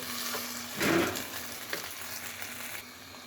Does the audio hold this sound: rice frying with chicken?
yes